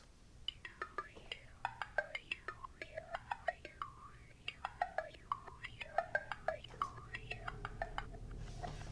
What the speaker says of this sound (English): What this is a single wood block that I actually hit.